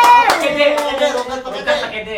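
Hands clap during a lively Indonesian game show, a brief burst of claps mixed with loud overlapping talk and laughter close to the microphone.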